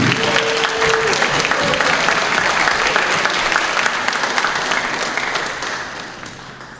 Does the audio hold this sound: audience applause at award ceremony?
yes